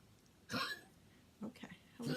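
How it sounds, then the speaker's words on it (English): A small pet dog coughs and hacks in a quiet room, three short, faint bursts spaced about a second apart. "He's probably gonna cough through the whole thing, and I apologize."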